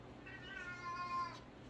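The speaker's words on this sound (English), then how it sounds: "Sorry, my cat is talking this morning." A house cat meows indoors, one drawn-out, fairly faint call that rises and falls, heard alone against a quiet room.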